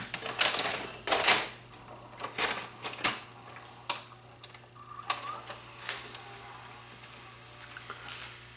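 A Toshiba SDV392 DVD VHS combo unit takes in a tape, giving a series of close mechanical clunks and clicks spaced irregularly over a low steady hum.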